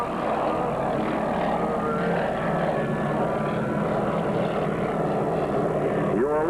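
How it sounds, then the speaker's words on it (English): Junkers trimotor airliner powered by three 830-horsepower BMW radial engines, a steady, loud, continuous drone of piston radials at close range, with a faint voice briefly underneath. "Built by Junkers, powered by 3 BMW radials of 830 horsepower each."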